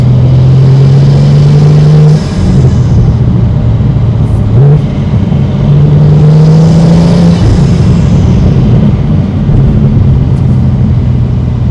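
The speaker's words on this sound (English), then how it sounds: "I could hear all the little whistles and swishes and spool sounds." A BMW G87 M2 fitted with an AWE intake revs loudly and close, engine drone rising and falling in pitch across several pulls, with whooshing intake swishes, turbo spool and faint whistles riding over the steady roar.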